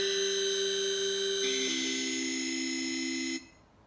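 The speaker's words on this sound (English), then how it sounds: "A simple alarm." An Amazon Echo Dot 2nd Gen plays its simple alarm notification, a bright sustained electronic buzzing tone that shifts pitch partway through and then cuts off abruptly near the end, heard alone and clearly.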